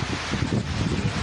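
Strong wind from Typhoon Enteng gusting hard, a loud, dense roar buffeting the microphone with a rustling edge, steady and unbroken with slight surges.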